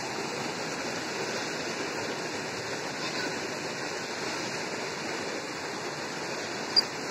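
Flowing river water where children are bathing, a steady, full rushing wash that stays even and fairly loud from start to finish, with a brief faint click near the end.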